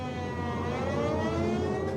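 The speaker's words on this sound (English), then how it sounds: "suddenly the warning sirens sound" Air raid warning sirens wail in a steady, loud, continuous drone with slowly rising tones, sounding alone without voices.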